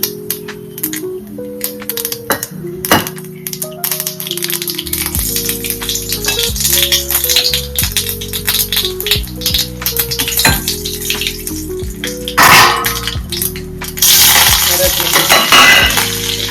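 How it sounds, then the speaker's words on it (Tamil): Mustard seeds and buttermilk-soaked dried chillies frying in oil for a tempering, with loud crackling and popping over a sizzle, clanking stirring and surges of intense spluttering near the end, all close up and without speech. "கொஞ்சமா கடுகு போட்டு மோர் மிளகா பொரிஞ்சதும் மோர் மிளகா 2 போட்டு தாளிச்சிக்கலாம்"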